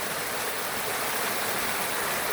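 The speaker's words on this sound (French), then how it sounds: "C'est une petite cascade." A small waterfall pours in a steady, broad rush of water, close and loud, with no talking over it.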